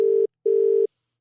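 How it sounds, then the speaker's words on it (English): Telephone ringback on an outgoing call: two steady electronic tone bursts, the first short and the second longer, separated by a brief silence, clear and alone with no talking. "It's ringing."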